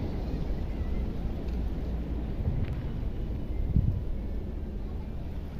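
Wind blowing at an outdoor picnic spot, a steady low rumbling buffet across the microphone at moderate level with no clear pauses.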